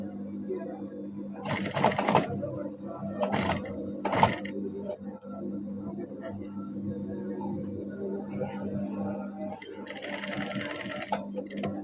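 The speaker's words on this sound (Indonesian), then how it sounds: "Ini bagian atasnya kita jahit bantu." A sewing machine stitches a bag's ribbon strap in bursts of fast whirring, with short runs near the start and a longer run at the end, separated by quieter handling and a steady background hum.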